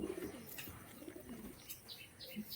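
A pigeon of a fancy breed such as Rampuri coos softly while a handler holds it up for display. A few faint, low, close coos sound with light chirps and rustling in a quiet room.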